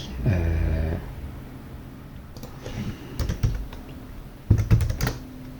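Someone types on a computer keyboard, a short dense run of keystrokes followed by scattered bursts of clicking, close by with no talk.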